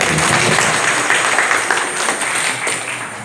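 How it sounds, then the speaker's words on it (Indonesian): An audience at a religious teaching session on the An-Nahdliyah method breaks into applause, a loud, dense, continuous clatter of many hands clapping that fades only slightly toward the end. "Tepuk tangan dong banyak ini."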